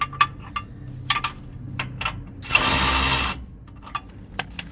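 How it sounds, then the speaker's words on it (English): Ratchet re-tightening bolts on a spoiler bar fitted to a new next-generation Ford Ranger, heard as a few quick clicking bursts with one longer steady ratcheting run in the middle, close and fairly loud. "then just re-tighten those bolts back up there"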